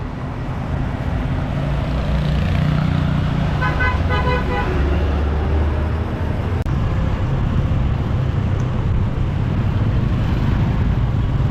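Busy street traffic on Phu Quoc island, Vietnam, with a vehicle engine running steadily up close, honking horns in a short rhythmic burst midway, and a continuous roadway rumble throughout.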